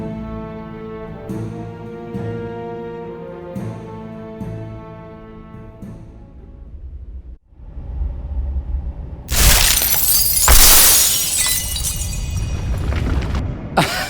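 A temple collapsing in The Dark Eye: Memoria: after a calm sustained tonal passage, a sudden loud crash of shattering and rumbling debris erupts and continues in heavy bursts.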